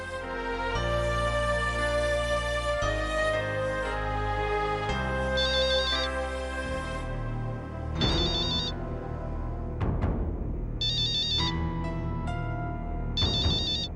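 A phone ringtone plays while a call is placed, a loud electronic melody repeating its musical phrase several times, then breaking into shorter bursts of high chirping tones alone without any talk.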